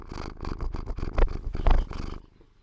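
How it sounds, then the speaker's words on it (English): A cat purrs close by in loud rhythmic pulses, each breath a rumbling burst, fading to quiet at the end. "if you hear any purring in the background, it's my cat"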